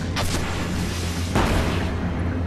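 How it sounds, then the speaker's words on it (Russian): A loud, roaring rocket explosion in the video game Destiny on PS4, with booming blasts that wash into dense rumbling noise. "Как шикарно прилетела ракета."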